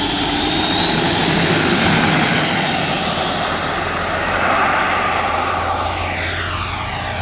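An FMS Hawk 80mm electric ducted-fan RC jet roars steadily on takeoff from a runway, a loud continuous whine whose pitch climbs and then settles high, with no talk over it.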